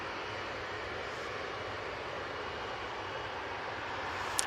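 A TUI airliner departs, a distant, faint, steady engine roar running evenly through the whole stretch with a small click at the end.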